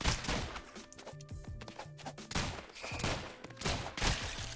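Gunshots in the video game Rounds come as quick bursts of shots and thumps in clusters, fairly quiet overall, with short gaps between volleys.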